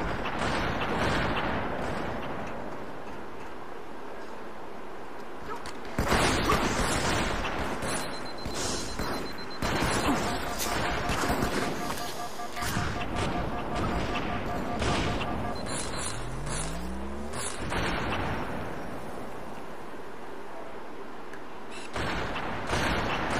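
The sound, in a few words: gunfire in Halo 2 (video game)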